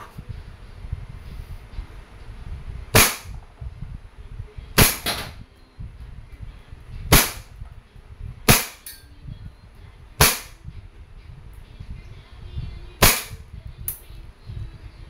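Umarex M92A1 Beretta-licensed airgun pistol fires six sharp, loud cracks at irregular intervals over a low background hum, with no one talking.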